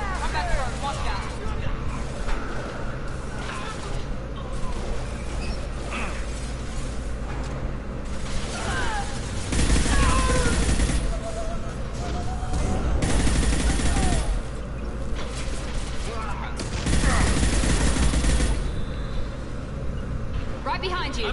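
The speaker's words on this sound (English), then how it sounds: "Firing a high-impact shot." Video game gunfire with several heavy high-impact shots and bursts over a rumbling mechanical background, people talking throughout.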